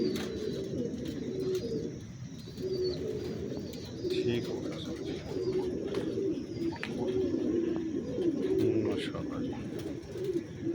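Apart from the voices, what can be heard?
pigeons cooing in breeding setup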